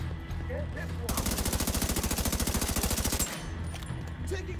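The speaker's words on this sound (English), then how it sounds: "Taking heavy fire!" A sustained burst of rapid automatic gunfire in the video game The Division 2, loud and close, running for about two seconds between quieter stretches of ambient game noise, with no talking.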